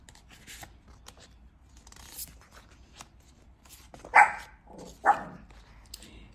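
A small puppy gives two short yaps a second apart, fairly close, amid quiet paper rustling and scattered light handling clicks.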